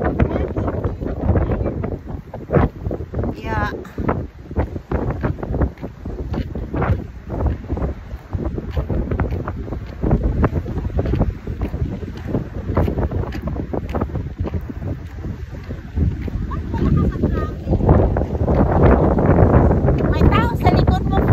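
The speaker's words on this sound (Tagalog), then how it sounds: "Lakas ng hangin." Strong, gusty wind at Toronto Island roars and buffets the microphone without a break, swelling louder toward the end, while people talk and exclaim over it.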